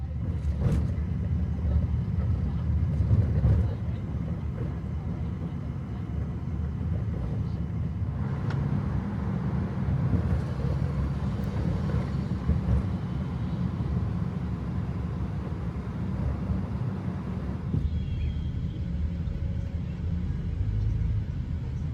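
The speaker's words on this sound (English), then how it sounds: "Remain seated as we taxi into the gate area" A Southwest Airlines jet taxis at New York's LaGuardia Airport, heard from inside the cabin as a steady low engine rumble and airframe drone that holds evenly throughout.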